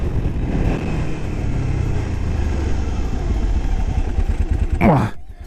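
Ducati 999 twin-cylinder sport motorcycle engine running loud and close, a steady throbbing drone that swells, then cuts off abruptly near the end with a short clattering sweep.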